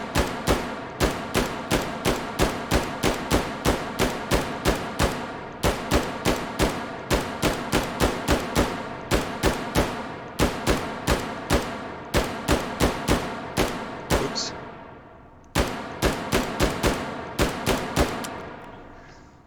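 A G11 rifle in the VR game Hot Dogs, Horseshoes and Hand Grenades fires a long string of fast semi-automatic shots, sharp, close and evenly spaced, with a few short pauses between runs.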